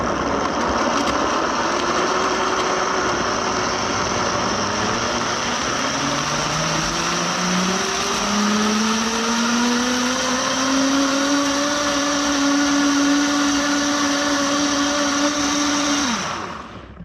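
An electric blender purees onion, garlic and ginger root in a loud, close, continuous whir whose motor pitch climbs midway before the machine cuts off sharply at the end.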